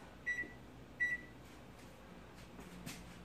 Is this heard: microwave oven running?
yes